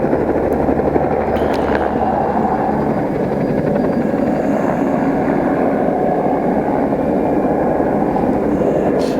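Helicopter flying overhead during an aerial spray run over forest at an elk reserve, a steady loud rotor and engine drone holding level for the whole stretch with no voices.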